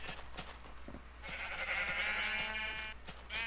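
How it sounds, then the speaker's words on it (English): Sheep in Minecraft bleat, a short call followed by a longer wavering bleat and a final brief one, close and clear over a quiet background. "take a bunch of sheep of different colors and put them in here"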